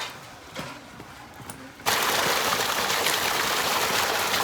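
Water gushing steadily from a motor-driven pump into a tub used for washing turmeric, starting abruptly after a quiet moment and continuing as a loud, even rush.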